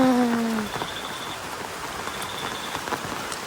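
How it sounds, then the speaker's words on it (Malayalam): Heavy rain pours down in a dense, constant patter close by, with a brief tonal whine fading out at the very start. "എന്ത് നല്ല മഴ ഉണ്ട്"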